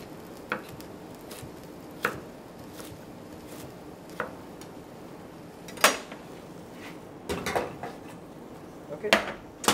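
A sharp kitchen knife cutting through hard turnip at a college cooking demonstration, scattered irregular chopping knocks against a board, some sharp and loud, over a low room murmur.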